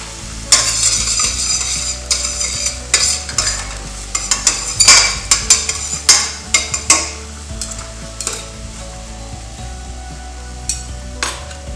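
Chopped garlic fries in olive oil for a pasta dish, a continuous close sizzle broken by repeated sharp clacks and scrapes of a utensil stirring against the pan.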